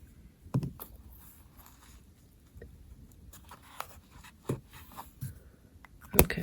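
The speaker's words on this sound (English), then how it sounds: "If I use these, I use a Sharpie and I just write what it is on the top." A Sharpie marker writes on the top of a plastic thread winder label, giving soft scratchy strokes with a few sharper taps and handling knocks, close up and fairly quiet with no talk.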